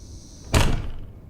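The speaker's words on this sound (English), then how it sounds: "The back door opens and I hear boots stomping towards the living room." A back door swings open with a single sharp, close thud and a short rattling tail that fades over about a second, against a faint steady background hum.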